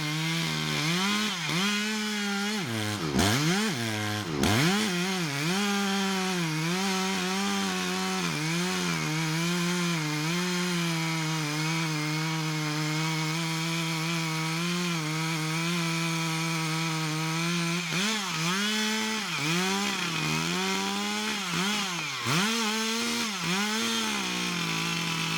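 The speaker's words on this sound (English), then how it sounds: "Cutting down a giant hybrid poplar tree requires a blend of skill, teamwork, and powerful equipment." A loud chainsaw runs continuously, its engine pitch sagging and rising as it bites into a thick giant hybrid poplar trunk during tree felling, with brief revving bursts early on.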